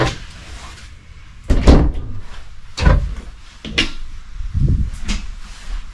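A caravan door is handled in a few sharp knocks and thuds with some rattling, each bump close and fairly loud, with no talking.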